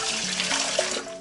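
About one and a half litres of water are poured into a small mini autoclave for steaming jars of canned burbot, making a continuous, close rushing gush with no talking.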